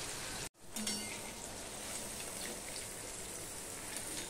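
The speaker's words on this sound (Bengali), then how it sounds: "সমস্ত পনিরগুলো দেখো এভাবে হালকা করে আমার ভেজে নেওয়া হয়ে গেছে" Pieces of paneer shallow-frying in hot oil for an onion- and garlic-free paneer gravy, giving a steady, close, fairly quiet sizzle with one brief dropout near the start.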